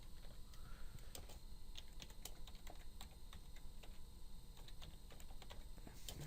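Quiet, steady tapping of keys on a computer keyboard as a command is typed into a Windows prompt, close and faint over a soft background hiss.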